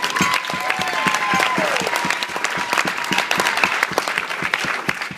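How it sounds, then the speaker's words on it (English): A crowd applauds steadily at a wedding best man speech, dense clapping sustained throughout with a faint tone and some voices mixed in beneath. "So I want to give a round of applause for Steve."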